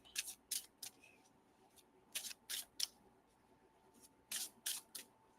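A tarot deck is shuffled by hand in three quick rounds, each a group of crisp riffling card snaps close to the listener, with quiet pauses between rounds.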